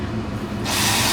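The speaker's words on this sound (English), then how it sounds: "It's just boiling" A pot of soup on the stove hisses and bubbles as it boils, the sound swelling abruptly halfway through into a loud, steady rushing hiss.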